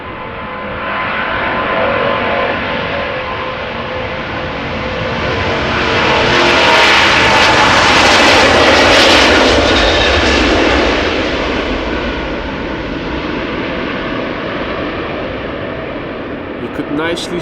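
A loud, rumbling Boeing 777-200ER jet engine roar at Amsterdam Schiphol Airport that swells to a peak midway and then settles into a sustained, deep growl.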